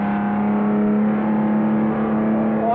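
A 1962 racing car driven flat out at Spa-Francorchamps holds a loud, steady high-pitched engine drone from close by, climbing slightly in pitch near the end, with no talk over it.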